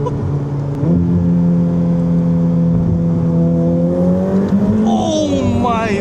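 A Ferrari pulling hard in third gear, its engine note climbing steadily and loudly from inside the cabin before a quick shift and another rising rev near the end.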